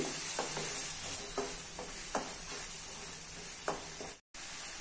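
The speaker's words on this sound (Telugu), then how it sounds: "ఇది మొత్తం మిక్స్ చేసుకోవాలి." Yogurt is mixed into a mushroom curry in a pan, producing soft, regularly spaced stirring strokes over a faint sizzle, close but quiet with no voices.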